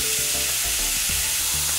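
Pork cutlets sizzle loudly on a hot grill pan, a dense, continuous frying hiss that stays close and even throughout with no voices.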